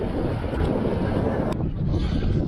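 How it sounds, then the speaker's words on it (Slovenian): Outdoor wind buffeting a microphone, a loud continuous low rumble with rough gusty fluctuations throughout, nothing else standing out. "Vse je res, da piha"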